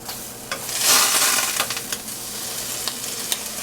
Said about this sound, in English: I'm just going to turn down the heat a little bit, and I'm going to add a tablespoon of butter.